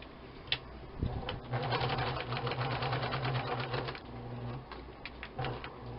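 A vintage sewing machine stitches fabric in a steady, fast mechanical whir with soft clicks at the start and end of each run, close by and without talk.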